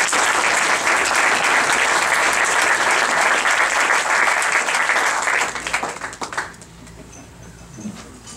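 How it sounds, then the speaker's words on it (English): Members at a Rotary Club meeting break into loud, close applause that holds steady for about five seconds, then thins into scattered claps and fades, with a few faint voices after. "just want to give all 3 of these gentlemen a round of applause"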